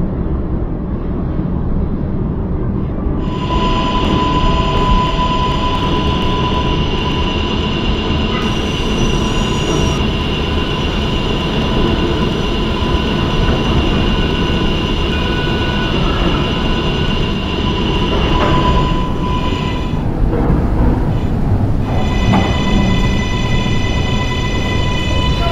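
An R143 local subway train on the R line rumbles loudly and continuously, with high sustained wheel squealing layered over the motor drone, no voices.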